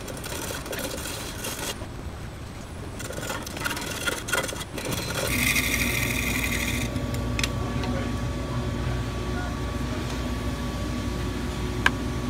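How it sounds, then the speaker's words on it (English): Chisel cutting the inside of a segmented wooden bowl on a lathe, a steady scraping, rubbing drone that grows louder and fuller partway through and runs continuously to the end. "The inside is even tougher because I have to lean over to get a good cutting angle with my chisel."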